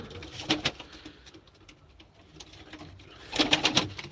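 Turkish tumbler pigeons coo softly inside a loft, with a few throaty rolling calls at the start and a louder cluster near the end over a quiet room background.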